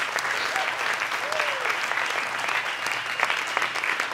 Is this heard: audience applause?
yes